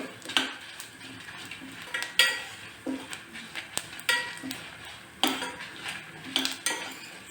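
A spoon stirs and scrapes through tomato kurma masala in a pan on the stove, giving repeated metallic clinks and scraping knocks in an irregular rhythm over a faint background hiss of frying, close by and with no talking.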